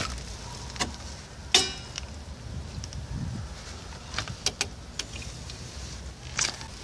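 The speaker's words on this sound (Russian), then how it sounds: "Первым делом снимаем стяжную пружину." Metal clicks, a sharp snap and scattered light clinks as the tension spring is worked off a Daewoo Matiz rear drum brake, brief separate sounds over a quiet workshop background.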